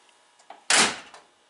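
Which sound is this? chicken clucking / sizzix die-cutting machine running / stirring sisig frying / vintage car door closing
vintage car door closing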